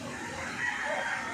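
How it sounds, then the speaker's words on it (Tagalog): A brief burst of chickens clucking and crowing outdoors at a bamboo grove, a dense overlapping flock sound, moderately loud and continuous, with no talk. "Mag-video muna tayo mga manok"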